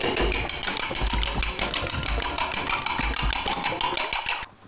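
Three eggs whisked with a splash of water and a pinch of salt for an omelette, the whisk rattling rapidly and steadily against the bowl, close and loud, then briefly stopping near the end.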